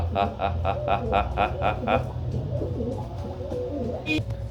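Pigeons coo in a quick rhythmic series of about eight soft calls, followed by quieter bird sounds and background noise.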